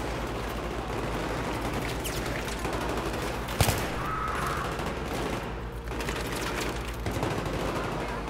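Battlefield 3 gunfire crackles in sustained automatic bursts, with one sharp, louder shot standing out partway through and further volleys continuing at a steady level to the end, with no talk.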